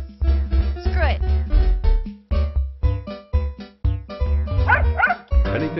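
Puppy barking in the busking video game Super Busker, short repeated yips and bow-wows in quick bursts over a musical background, fairly loud and close.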